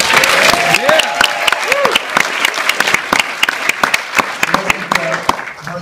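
A comedy club audience at the Improv breaks into dense, sustained applause, with sharp individual claps standing out and a few voices whooping over the clapping throughout.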